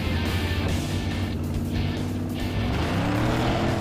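A Cadillac at full throttle in a Roadkill car showdown, its engine roaring continuously loud and close with a rising pitch toward the end, no voices over it.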